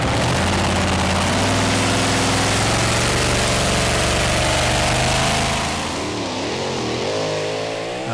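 A Hemi-powered Dutch two-wheel-drive pulling tractor roars at full throttle during a European Championship tractor pull in the 2.6-ton class, loud and sustained, then the engine note wavers and falls away toward the end.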